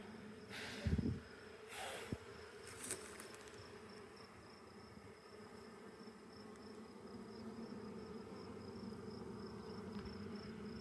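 Honeybees buzz around a hive frame as it is inspected, a faint steady hum with a few knocks and clicks from handling early on, then a continuous drone.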